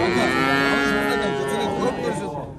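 Cattle at a bustling livestock bazaar in Jalal-Abad, one loud, close, drawn-out moo lasting about two seconds, with faint crowd noise behind it.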